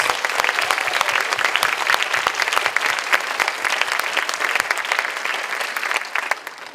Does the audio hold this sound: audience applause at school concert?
yes